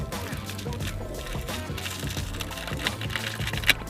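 A tempered-glass hardcase for a Xiaomi Poco X3 NFC phone is unpacked slowly, with stiff plastic packaging rustling and crackling throughout and a sharp snap near the end.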